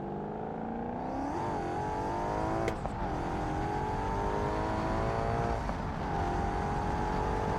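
A V8 engine, in a turbocharged versus naturally aspirated comparison, pulls hard at full throttle, its harmonic drone climbing steadily in pitch with brief dips at gear changes, loud and close throughout.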